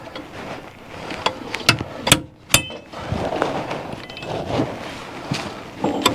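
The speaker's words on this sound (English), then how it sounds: "beating and pounding with a hammer" Metal hammer pounding a stuck part out of a military vehicle during maintenance, several sharp, loud clanking strikes spaced irregularly over steady background noise.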